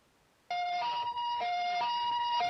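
An ambulance siren sounds on the way to an auto repair shop in Toucheng. It starts abruptly after near silence and stays loud and close, alternating steadily between two tones with no voices.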